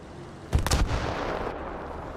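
Artillery fire in War Thunder tank combat: a close, heavy cluster of booming blasts lands in quick succession, then trails off into a low rumble with no talking.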